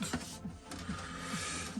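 A Canon LBP6000 compact laser printer runs with a steady mechanical whir and faint rhythmic clicks and thumps from its rollers, heard up close.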